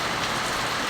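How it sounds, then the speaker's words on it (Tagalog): Heavy rain pours steadily during a flood in Bangued, Abra, a loud, constant hiss of water striking surfaces at close range, with no voices. "So, napakalakas ng ulan."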